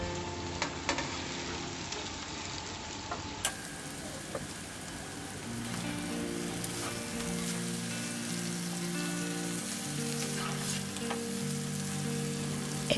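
Bitter gourd hits hot oil with cumin and onion for an Assamese recipe, bursting into a loud, continuous sizzle and crackle that holds steady, with faint stirring and no speech.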